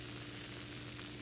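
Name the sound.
turkey frying, sizzling in the pot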